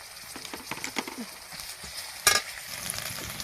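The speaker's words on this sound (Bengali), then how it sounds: "রসুন ভাজা হয়ে গেছে" Chopped garlic sizzles in hot oil in a pan of already-fried onions, with steady close frying hiss, scraping stirs and one sharper clatter of the spatula partway through.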